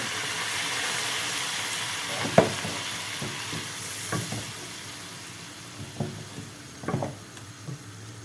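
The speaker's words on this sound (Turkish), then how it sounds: "margarinim iyice kavruldu eridi. Şimdi 2 su bardağı unumuzu ilave ettim" Flour being stirred and toasted in melted margarine for halva on a hot stove sizzles steadily, with a spoon scraping the pan in several soft, irregular strokes.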